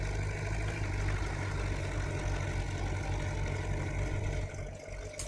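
Tractor engines rumble steadily at idle in a farming video game set on an old Polish farm during haymaking, a low continuous drone that dips slightly near the end.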